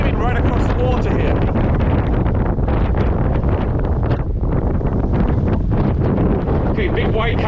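Strong storm wind buffets the microphone aboard a boat on open water as whitecaps build, a loud continuous roar with gusting rushes, and someone speaks under it.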